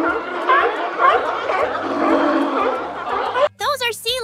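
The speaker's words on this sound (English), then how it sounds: "Those are sea lions." A group of sea lions barks and groans in a dense, overlapping chorus, fairly loud. A short bright musical jingle cuts in at the end.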